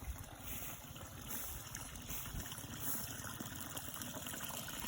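Mountain spring water from Mount Papandayan flows steadily in a continuous, fairly faint rushing trickle, with no voices over it.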